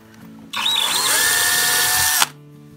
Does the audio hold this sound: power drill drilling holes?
yes